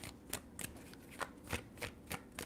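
Tarot cards being shuffled by hand, a series of quick, crisp riffling bursts in a steady rhythm, close and moderately loud with no talking.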